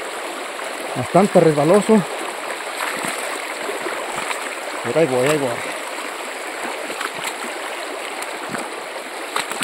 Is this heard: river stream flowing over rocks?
yes